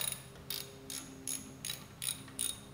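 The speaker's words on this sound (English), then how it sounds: "The dipstick doesn't need to be over-tightened either. It just needs to be tightened to 25 inch pounds." A wrench ratchets in short, evenly spaced bursts of clicking, six quick pulses, while snugging the transmission dipstick on a Harley-Davidson Twin Cam touring motorcycle; close and fairly quiet.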